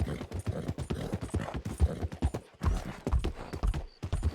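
Steady clip-clop of a horse galloping in Red Dead Redemption 2, on a dry dash from Van Horn to Blackwater. The hoofbeats come close and rhythmic and run without a break, with a short dip midway and a faint whinny-like tone.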